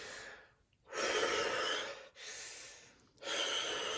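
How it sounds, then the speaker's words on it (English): Three long, deep breaths drawn in and let out in steady succession, each a broad rushing exhale close to the mic, separated by brief quiet pauses while someone has their makeup done at home. "deep breaths now"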